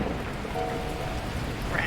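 Torrential rain and thunder in the video game Beacon Pines: a dense, steady downpour with a low rumbling undertone that fills the scene, and a brief exclamation is spoken over it.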